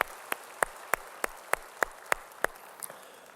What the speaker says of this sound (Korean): 우리 찬양 받으실 주님께 영광의 박수 올려드리시겠습니다